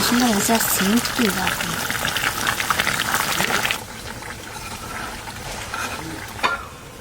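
A pot of freshly caught pond fish curry bubbles at a steady boil, loud at first under a voice speaking, then settling into a quieter, even simmer after the talk stops.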